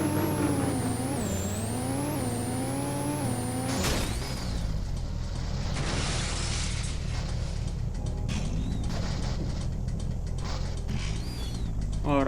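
A car in GTA San Andreas with soft-body damage physics revs with a rising and falling engine whine, then slams into a stone wall with a sharp crash followed by scraping, grinding metal noise.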